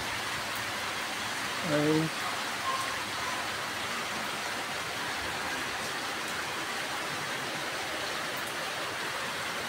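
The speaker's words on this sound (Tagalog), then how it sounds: "ang lakas na naman ng ulan" Heavy rain pours steadily in Rizal, Philippines during flooding, a dense, constant hiss, with a short spoken exclamation briefly heard over it.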